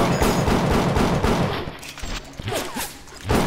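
Rapid bursts of gunfire ring out in the Bioshock video game, a dense volley of shots for the first half that thins into scattered cracks and impacts before another burst near the end.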